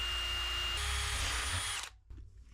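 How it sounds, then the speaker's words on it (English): Power drill whining close and loud as it bores through thin van roof metal, a steady high-pitched run that shifts pitch midway, then stops abruptly. "I'm having to hold the drill at an angle, but it's only a thin piece of metal"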